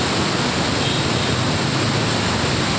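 Water rushes through the open gates of Indrapuri dam on the Son river in a steady, loud, broadband roar that holds at the same level throughout.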